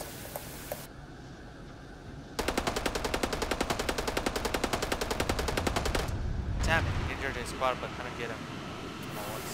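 Sustained automatic gunfire in Arma 3, a rapid steady burst of shots lasting several seconds near the listener, followed by scattered vehicle and ambient noise, with voices over the action.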